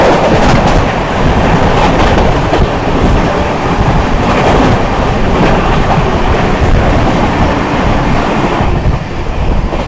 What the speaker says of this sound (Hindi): सामने से आती हुई हटिया आनंद विहार झारखंड स्वर्ण जयंती एक्सप्रेस